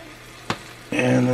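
Ground chicken seasoned with paprika sizzles as it hits a hot cast iron pan, a sharp crackle breaking out after a brief quiet and a single clack, then holding as a loud, steady frying hiss.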